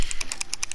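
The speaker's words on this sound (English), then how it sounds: "And this is my keyboard." Fast typing on a computer keyboard, with about eight crisp, closely spaced key clicks in under a second, heard up close and clear.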